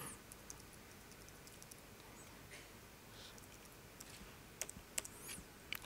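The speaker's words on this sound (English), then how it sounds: "it's hard to type on a laptop for me." Keys on a small laptop keyboard are tapped, faint scattered clicks growing into a few sharper taps near the end, heard close over a quiet hiss.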